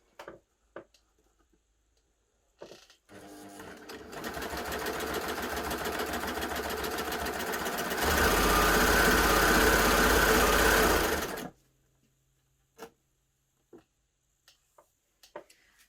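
A baby lock Gloria combination machine sews a narrow cover stitch in one long steady run of rapid mechanical whirring that speeds up for the last few seconds, bracketed by a few sharp clicks before and after.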